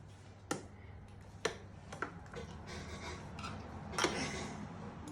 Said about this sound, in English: You might use your fork to scrape it in there.